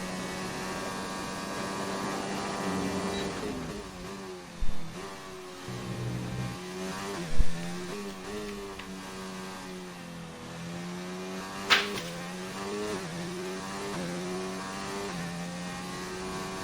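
Race car engine lapping a track in an Xbox racing game, a steady droning whine that rises and falls in pitch through gear changes, with a few brief sharp clicks, mid-loud and continuous.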